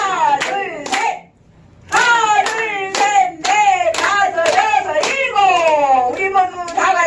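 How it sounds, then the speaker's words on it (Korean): Rhythmic hand clapping in a seniors' brain-health exercise class, quick claps in bursts following a count, with a brief pause before the pattern resumes, and an instructor's voice talking throughout. "박수 시작."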